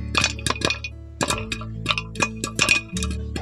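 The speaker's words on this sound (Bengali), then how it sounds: "এই দেখুন ফুটফাট করতে শুরু করে দিয়েছে।" Corn kernels bursting into popcorn inside a pressure cooker, a quick irregular series of sharp, loud cracks and clinks over a low steady hum.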